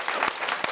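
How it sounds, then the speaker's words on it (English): A brief burst of audience applause at a talk, a thick patter of many hands with a couple of sharper claps up front. "I first want to start by giving you all a hand of applause"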